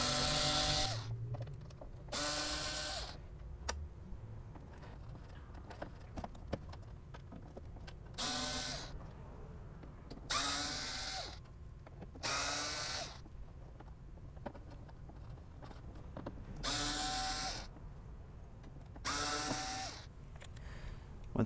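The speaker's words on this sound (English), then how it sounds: "it's time to remove our eight screws" A power screwdriver backs out screws from a Yamaha YC30 organ in repeated short whirring bursts separated by pauses, fairly faint and close, with light handling clicks between.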